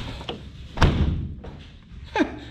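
The door of a 1980 Mercedes-Benz 450SLC (C107) parts vehicle is slammed shut with a solid, close thud, followed by a second, lighter knock a moment later.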